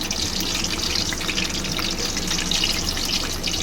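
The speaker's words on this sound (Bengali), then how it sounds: "তেলেতেই আমি আলুটা একটু ভেজে নেব" Partly boiled potatoes frying in oil for mutton keema biryani, giving a steady, loud, bright sizzle that hisses continuously with no speech.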